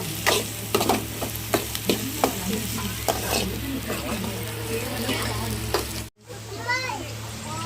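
Onions and green chillies are stirred and sizzling in a hot pan, with repeated scraping strokes in an uneven rhythm, children's voices and talk in the background, and a brief cutout near the end.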